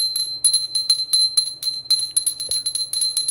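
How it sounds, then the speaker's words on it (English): A small decorative bell is rung repeatedly in fast, uneven jingling strokes, bright and sustained, close up and alone without speech. "I'm gonna ring the bell."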